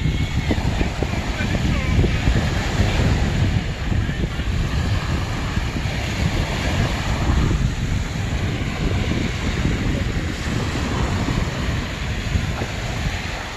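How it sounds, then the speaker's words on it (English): Steady wind buffeting and low rumbling surf fill the whole stretch, a continuous outdoor roar with no clear breaks. "So this is the beach over here"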